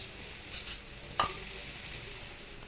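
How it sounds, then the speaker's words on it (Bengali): Garam masala powder sizzles softly in a hot pan, a faint steady fry with a single sharp stir or scrape partway through. "এবারে দিয়ে দিচ্ছি গরম মশলা গুঁড়া।"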